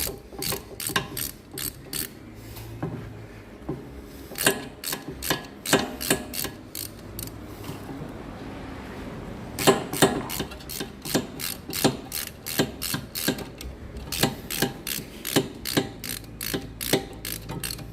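Ratchet tool winding back the piston of an electric parking brake caliper on rear discs, giving rapid repeated clicks in steady bursts with a short pause mid-way, close and moderately loud.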